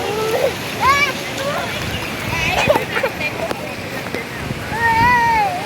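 Swimmers splash in river water at a popular freshwater bathing spot in Aceh, with steady sloshing and churning close by, under continuous talk and excited voices of adults and children.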